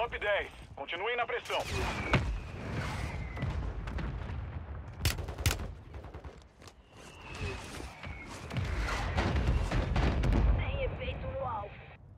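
Gunfire crackles and booms in the Warzone battle royale video game, with sharp shots, heavy blasts and some footsteps, while players talk excitedly over the action.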